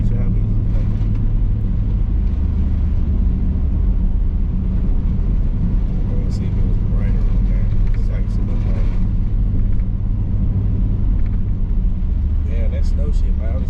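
An SRT Jeep driving in snow, heard from inside the cabin as a steady, loud low rumble of engine and road noise, with people talking over it throughout.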